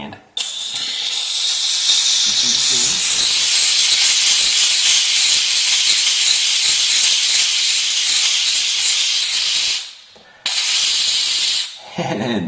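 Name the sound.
pressurized steam cleaner hissing on a tub mat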